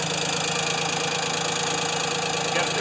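An old Ford 2600 tractor engine runs steadily at idle, a loud, continuous, evenly knocking diesel chug heard up close with no talk.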